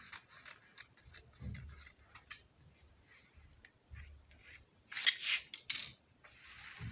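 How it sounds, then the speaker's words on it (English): Scissors trimming fabric for the sleeve of an A-line gown, giving a series of crisp, close snips and cuts in irregular bursts, with one louder cluster near the end and no talk. "I'm trimming it for the sleeve to be relaxed."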